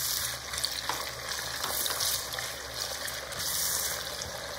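Chopped onions and diced red, orange and yellow peppers sizzle in a pot, a steady crackling fry with faint stirring and a light watery hiss throughout.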